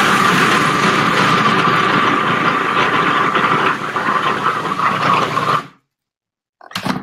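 A blender or food processor runs continuously with a steady loud whirring motor hum, drops briefly to silence, then starts again for another short pulse, during holiday cooking prep.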